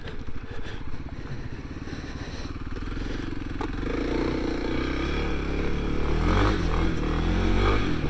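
A 2021 Kawasaki KLX300S trail bike's single-cylinder engine drones steadily at low, moderate revs while riding a trail, with light clatter over rough ground and a slight rise in pitch partway through; no talking.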